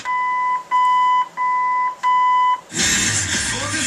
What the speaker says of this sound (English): When it gets through beeping, you can start moving this after all the beeps are done